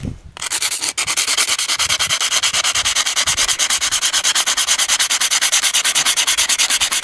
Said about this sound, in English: I'm going to grab some sandpaper here.